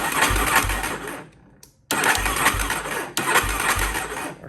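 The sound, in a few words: ATV starter motor cranking the engine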